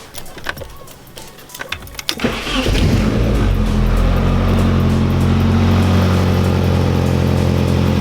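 A Nissan 240SX engine cranks briefly and catches with a roar, then settles into a loud, steady idle close by, after a few clicks and handling noises.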